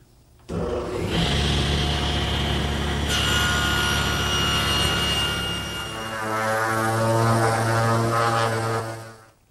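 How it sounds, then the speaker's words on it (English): A table saw with its blade tipped to 20 degrees rips a pine board along the fence for a picture frame: a steady loud whine under a droning motor, the pitch shifting as the cut ends and the blade spins on alone. "Over at the table saw, I've tipped the blade to 20 degrees and adjusted the rip fence"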